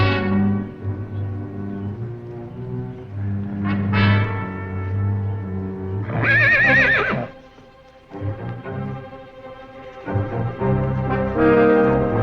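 Horses in an Old West setting whinny repeatedly in loud, shrill bursts while their hooves clip-clop on the ground, with a steady low droning tone underneath throughout.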